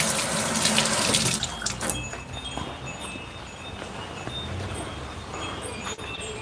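Tap water runs steadily into a kitchen sink as something is rinsed before grating, a continuous hissing splash with a brief louder gush near the start.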